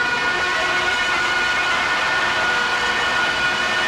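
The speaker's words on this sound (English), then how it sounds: "the whole thing is basically just feedback and noise" Dense, unbroken wall of guitar feedback and noise, harsh and loud, with shrieking, siren-like high tones over a broadband roar that never lets up.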